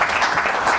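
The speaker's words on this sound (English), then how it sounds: "Let me give you one more round of applause as I start this" Audience applause at a high school quiz competition in Zimbabwe: a short burst of dense, steady clapping that stays at an even level throughout.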